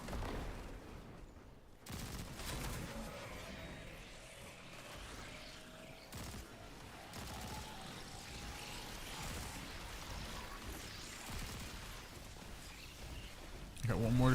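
Gunfire in Destiny while shooting targets, a few sharp shots with bursts of rapid fire among ambient game sounds, under intermittent talk.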